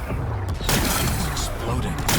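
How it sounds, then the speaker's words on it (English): A power cell blowing apart to blast rocks in Horizon Forbidden West, a loud sustained explosive roar with rumbling debris and a sharp burst partway through, continuing as a dense wash of noise. "It's exploding."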